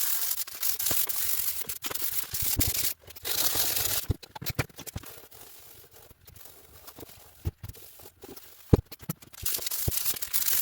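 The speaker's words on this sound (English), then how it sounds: "let's start working on sanding this tank down" Sandpaper scrapes over the metal gas tank of a cheap Suzuki enduro motorcycle in bursts of rough, gritty strokes separated by short pauses and knocks, close and fairly loud with no talking.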